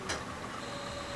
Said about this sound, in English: Connecting to sprocket printer.